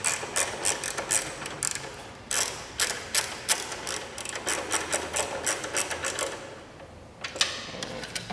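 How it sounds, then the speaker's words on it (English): A ratchet wrench tightens bolts on a car's engine control unit, making quick bursts of sharp clicking, close and fairly faint, with short pauses between runs of strokes. "Make sure all these bolts are tightened down all the way."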